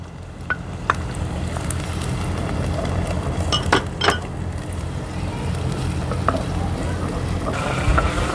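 Onions frying in a pot until light brown give a steady close sizzle, with occasional clinks and scrapes of a utensil against metal and glass, and no talk.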